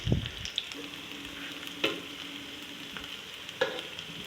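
Aloo chicken cutlets shallow frying in a pan, a soft continuous sizzle with a few sharp clicks of turning and stirring, fairly quiet and with no talk.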